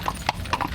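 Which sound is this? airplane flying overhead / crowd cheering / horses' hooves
horses' hooves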